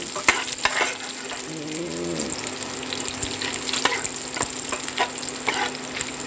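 Chicken skin frying in oil as it is stirred, giving a steady, loud close sizzle with scattered crackles and pops and occasional scraping of the utensil, no talk.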